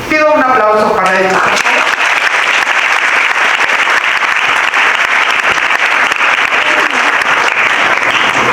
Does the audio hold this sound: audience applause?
yes